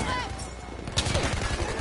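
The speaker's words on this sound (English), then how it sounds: "Oh, we're getting shot at." Gunfire in Battle Warriors RIOT Squad on PS4: a dense, rumbling fusillade of shots with a sharper crack near the middle, over steady game noise and faint voices.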